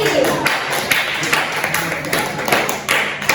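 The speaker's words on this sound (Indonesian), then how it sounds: "Oke, tepuk tangan dulu untuk Billy." Classroom applause during a school teaching session: a crowd of students clapping in a steady, dense patter of many hands, fairly close and continuous, with brief louder bursts throughout.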